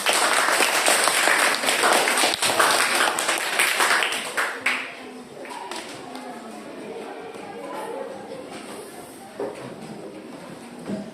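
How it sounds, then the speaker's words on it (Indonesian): A classroom audience applauds a student group's presentation, a dense burst of clapping for about four seconds that then thins out into scattered claps, with voices chattering throughout. "Ayo tepuk tangan sekali lagi"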